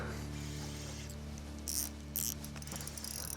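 A fishing reel's drag ratchets in short clicking bursts while a pike is being landed. The clicks are faint and close over steady background hiss.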